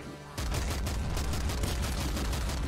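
Rapid gunfire from the top-down shooter game Nuclear Throne bursts in after a brief quiet start, a dense, loud and continuous barrage of shots running straight to the end.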